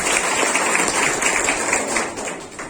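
An audience breaks into applause at a gathering, a dense steady clapping that stays loud for the whole stretch and eases slightly at the end.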